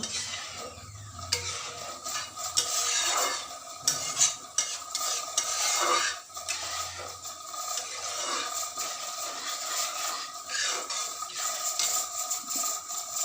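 A spoon steadily stirs a thickening rice and curd mixture in a pot on the stove, a continuous close scraping with frequent clinks against the pot and a faint sizzle beneath.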